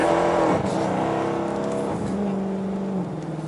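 A 2015 Dodge Charger R/T on 26-inch Forgiato wheels accelerating hard with wheelspin: a close, loud engine roar climbing in pitch, dipping briefly as revs change, then pulling again.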